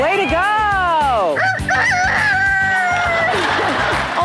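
A woman imitates a rooster crowing, drawing out one long rising and falling cock-a-doodle-doo, then a second shorter crow loud and close.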